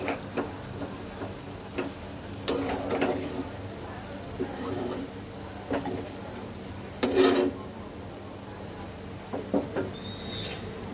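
Goat liver sautéing in a pan, giving a soft, uneven sizzle with occasional clinks and scrapes of stirring, close and moderately quiet throughout.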